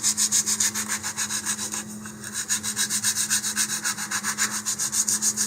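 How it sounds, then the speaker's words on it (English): Sandpaper rubbed by hand in quick, even back-and-forth strokes over a wooden model rocket part, a close, rhythmic rasping with one short pause midway. "I can round it even more, this time just moving my sandpaper in a curve"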